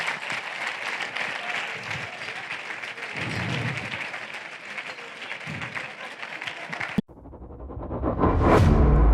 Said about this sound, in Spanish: Por favor, un fuerte aplauso a Ibercaja